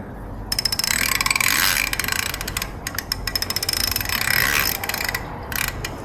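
Wrench ratcheting as a wheel is tightened on a 1952 Ford Crestline Sunliner, with rapid metallic clicking in several bursts separated by brief pauses, close and fairly loud.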